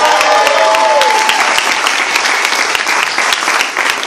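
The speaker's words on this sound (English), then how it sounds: "Give him another round of applause." A crowd at a Cuomo/Klein political rally in Riverdale claps loudly and steadily, a dense, sustained wash of applause close to the microphone with a voice briefly carrying over the start.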